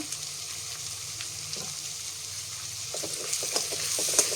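Moth bean sprouts sautéing in a pan with salt and turmeric, a continuous close sizzle with intermittent spoon stirring and scraping that grows a little louder toward the end, no talking.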